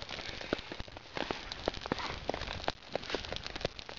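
Steady rain patters densely on surfaces nearby, with scattered louder drops and crackly taps throughout.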